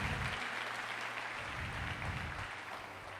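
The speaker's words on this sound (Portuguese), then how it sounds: "Pode aplaudir o Senhor bem forte" A church congregation applauds during a Portuguese-language sermon, a broad wash of clapping that stays fairly steady and soft-to-moderate throughout, with a low hum running underneath.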